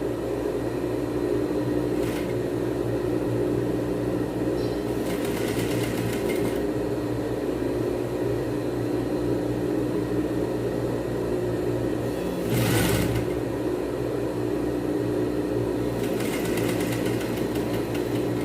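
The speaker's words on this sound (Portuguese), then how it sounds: "E aí agora a gente vem costurando pra poder encaixar o outro lado" A sewing machine stitches a women's tailored blazer, running as a continuous steady hum with a few brief, louder bursts of stitching and no voices.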